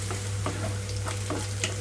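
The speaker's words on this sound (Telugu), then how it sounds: "ఉల్లిపాయలతో పాటుగా పచ్చి వాసన అనేది పోయే వరకు వేయిస్తున్నాను" Steady sizzling of onions frying in a pan, with soft scraping strokes of stirring every half second or so, close and continuous.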